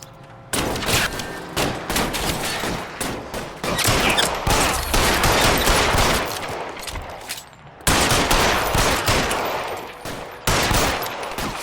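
Dense gunfire in L.A. Noire, rapid overlapping shots and automatic bursts fired loud and close in a sustained barrage, with a brief lull before another volley.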